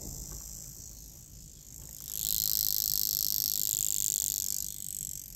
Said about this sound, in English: There goes the Vulcain cricket in the background.